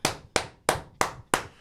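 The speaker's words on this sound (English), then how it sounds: "Round of applause." Five slow, evenly spaced single hand claps sound close and fairly loud, a lone person applauding for a new inductee with no talk over them.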